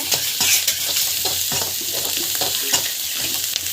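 Spices with turmeric and asafoetida sautéing in a hot pan: a continuous bright sizzle close by, broken by frequent scraping stirs and the clack of a spatula, loud and without any talking.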